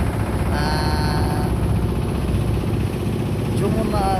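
A trawler engine drones steadily on a boat on the river near the Padma bridge at Mawa, a constant low rumble with faint voices above it.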